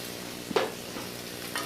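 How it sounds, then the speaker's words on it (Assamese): Tomatoes fry in hot oil in a pan for a rohu fish and black sesame dish, giving a steady close sizzle with a couple of brief stirring scrapes, alone without talk. "বিলাহীখিনি ইয়াতে দি দিছোঁ, বিলাহীখিনি ভাজি ল'ম"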